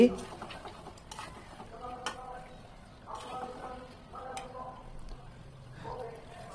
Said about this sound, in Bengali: এখন ঢেকনি উঠিয়ে মাংসটিকে সুন্দরভাবে নেড়ে চেড়ে দিচ্ছি